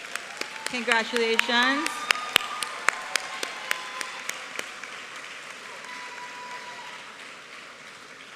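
Scattered applause for graduates at a university graduation ceremony, a few dozen sharp claps that thin out and fade over several seconds, with a voice speaking over the start.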